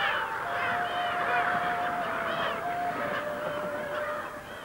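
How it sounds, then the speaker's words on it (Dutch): Cormorants, gulls and other birds call at island-dotted breeding lakes in a dense, continuous chorus of honking and wavering cries, steady and fairly loud, with no talking. "Het is paartijd voor de aalscholvers, meeuwen en andere vogels."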